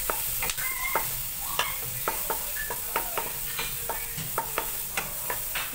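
Butter, onion and garlic sauté in a pan, a quiet, steady sizzle broken by repeated sharp clinks and scrapes of a utensil stirring against the pan, with no talk.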